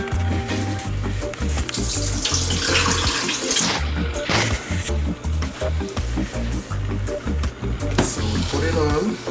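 Water runs from a tap into a cooking pot for boiling pumpkin and okra, a steady splashing gush that rises and falls, while rhythmic music with a pulsing beat plays underneath.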